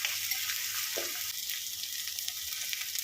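Ground spices, coriander powder among them, frying in a pan for a Kerala-style okra and tomato curry, a steady close hiss of sizzling oil with a faint stir partway through.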